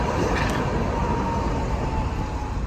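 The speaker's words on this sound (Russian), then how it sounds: "Трамвайчик." A tram passes along a historic city street in Hungary, a steady broadband rumble and rolling rail noise close by, with a brief higher squeal near the start and no talk.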